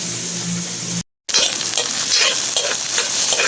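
Tomato, onion and garlic sautéing in a hot pan while being mixed, a loud constant sizzle with scraping stirs, briefly cut to silence for a moment before the crackling resumes.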